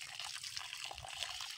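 Water drains steadily out of a farm irrigation hose for a piggery, a continuous close gushing and splashing rush with no pause.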